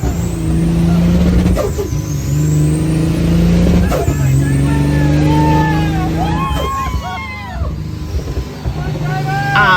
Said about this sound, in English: he invited me to go in the truck as he raced uphill